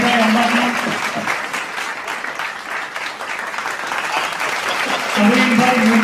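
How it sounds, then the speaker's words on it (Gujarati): Crowd at a mass wedding ceremony held by the Jamnagar Gurjar Sutar community at Vishwakarma Bagh clapping loudly and steadily, a dense sustained burst of applause framed by brief tones at the start and end. "એકવાર જોરદાર મેળો તાળીઓથી બતાવો"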